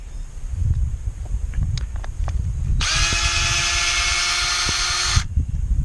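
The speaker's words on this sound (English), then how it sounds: "I'm going to take out my old star-driven hex screw or deck screws." A power drill backs star-drive deck screws out of a landscaping edge: a loud, continuous high whine for about two seconds mid-clip, after a few light taps and handling noises.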